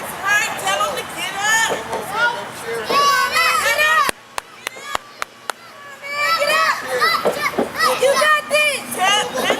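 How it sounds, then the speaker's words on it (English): A live wrestling event crowd, many of them children's voices, yelling and cheering loudly throughout, with a brief near-silent break broken by a few sharp clicks before the shouting resumes. "You can hear the crowd"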